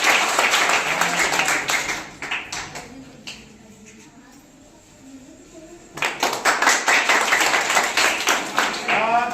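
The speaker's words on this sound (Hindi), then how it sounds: "जोरदार तालियां इसके लिए" Loud clapping from a classroom of students, applauding one pupil who answered a quiz question, with a dense burst of hands at the start, a lull in the middle, and a second strong round toward the end.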